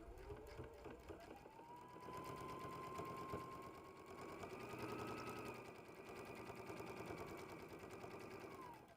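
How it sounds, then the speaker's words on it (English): A sewing machine runs steadily for several seconds, stitching borders onto a mini charm-square placemat top, a continuous fairly quiet whirring hum at close range. "I'm ready to sew these borders on."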